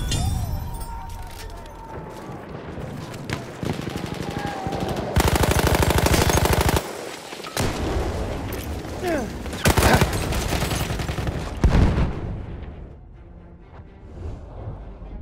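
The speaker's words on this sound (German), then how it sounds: "Feindliches Maschinengewehr! Ich bin hier auf einen MG geschossen!" Machine gun fire crackles through Battlefield 1 Conquest combat, dense bursts and fusillades rolling on almost continuously with several louder close bursts and sharp impacts, a distant voice heard now and then under the din.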